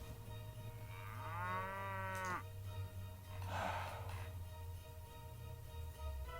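Cattle in the Mount & Blade Warband video game give two clear moos, one drawn-out bellow followed by a rougher, shorter low call, over a steady game background hum.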